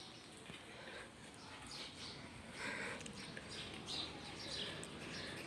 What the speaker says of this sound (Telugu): పిచ్చుకల శబ్దాలతో